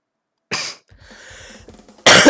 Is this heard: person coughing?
yes